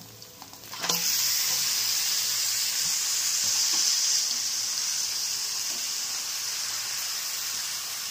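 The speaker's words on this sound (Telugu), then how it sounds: "1/2 కేజీ మటన్ అయితే ఇందులో వేసుకుంటున్నాను" Half a kilo of mutton hitting hot oil with ginger garlic paste and onion for a mutton curry: a sudden loud sizzle jumps up after a quiet moment, then holds as a steady, bright frying hiss close by.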